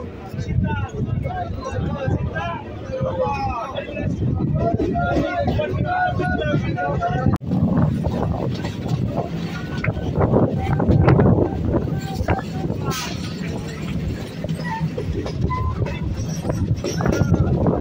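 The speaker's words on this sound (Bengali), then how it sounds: "কালীনারায়ণপুর থেকে ট্রেনটা ছেড়ে দিল।" A local train on the Sealdah–Krishnanagar line pulls out of Kalinarayanpur station, a continuous rumbling roar with rattling and wind buffeting, heard close from on board beneath people talking throughout.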